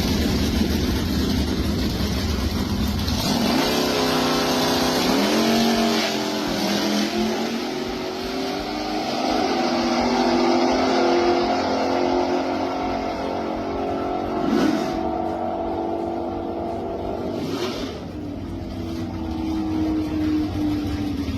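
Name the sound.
1962 Chevrolet Chevy II Nova gasser, 406 small block engine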